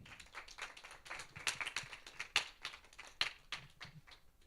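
Scattered, fairly sparse clapping from a small audience at a student speaking conference in Gwangju, welcoming the first speaker to the stage, with uneven individual claps rather than a full roar.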